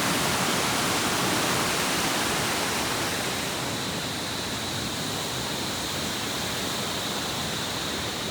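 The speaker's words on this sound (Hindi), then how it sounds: "और वो नीचे की तरफ मधुगंगा नदी, जो कि इस समय धनतोली की तरफ से आ रही है।" The Madhu Ganga river runs through a Himalayan valley on the Madhmaheshwar trek, flowing down from the Dhantoli side. It makes a steady, dense rushing roar of water that fills the whole clip without pause and with no voices.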